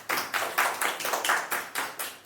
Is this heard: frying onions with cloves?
no